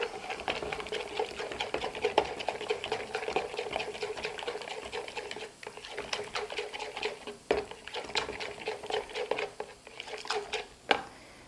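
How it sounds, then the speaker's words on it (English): Canned cream of mushroom soup is stirred into a seafood dish mixture, giving close, steady wet scraping and tapping with irregular clicks against the bowl, alone without talk. "And then we'll just mix those together."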